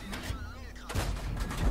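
Tank cannon fire in World of Tanks from an M41 Bulldog light tank: loud booming gunfire bursts with rumbling battle noise. Someone talks over the shots.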